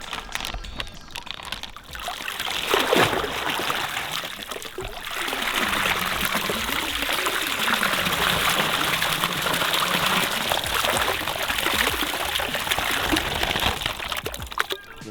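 Brook trout are poured with water into a backyard pond, a steady, close splashing gush that swells and runs continuously for several seconds before tapering off.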